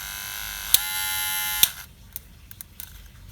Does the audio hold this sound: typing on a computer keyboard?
no